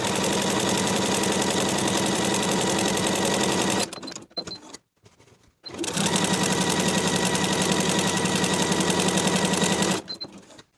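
A sewing machine running a long straight stitch, a loud close rapid mechanical whir that drops out for about two seconds and then resumes at the same steady pace.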